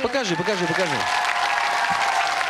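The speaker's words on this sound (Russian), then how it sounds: "Аплодисменты." Studio audience applause on a Russian TV game show, a broad steady wash running the full length, with a voice speaking over the first second.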